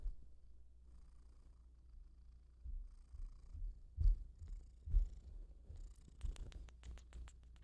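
A cat purrs softly and close, a faint continuous low rumble with a few louder thumps and brief scratchy rustles near the end.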